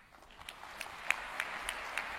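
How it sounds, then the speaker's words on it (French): Scattered clapping rises from the audience at the opening of the 18th UHFP edition, starting thin and building into sparse, distinct claps that stay fairly faint. "Merci d'applaudir"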